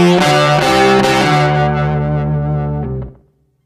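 Electric guitar run through an octave effect on a Boss RC-600 loop station, a loud distorted chord with a thick doubled low tone ringing out for about three seconds before cutting off, close and alone.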